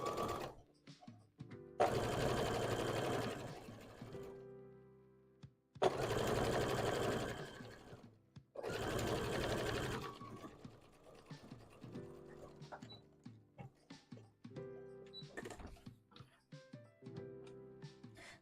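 Sewing machine stitching fabric for a Pokemon hat, running in three long loud bursts of rapid stitching followed by shorter intermittent runs and clicks, close by.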